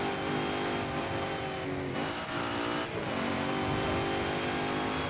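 An A-class car's engine in Forza Horizon revs hard and steadily, a loud close mid-pitched roar whose tone rises and falls with brief dips as the throttle shifts, heard alone with no voices.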